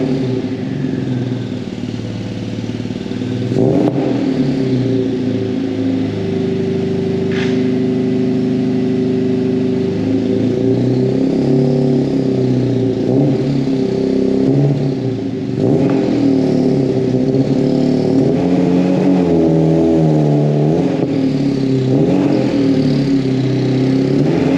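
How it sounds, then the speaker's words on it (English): A Mk1 VW Caddy on air suspension runs with a newly fitted exhaust, a loud, steady, throaty engine drone close by with a few small swells in revs, no voices over it. "the exhaust does sound pretty cool"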